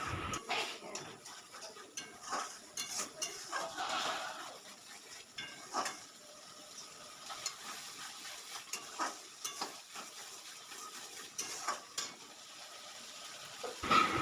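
Spice paste with turmeric being stirred in a pan for a potol and fish curry, a soft, steady sizzle under repeated scraping clicks of a spoon against the metal, close and moderately quiet with no talking.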